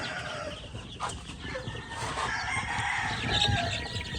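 Heritage breed chickens and chicks on a farm, with roosters crowing and hens clucking over a steady busy flock din, fairly close and continuous.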